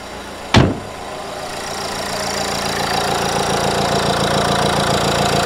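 Car engine catching after a jump start from a Topdon JS3000 booster: one sharp thump, then a steady idle that grows slightly louder and settles into a constant hum.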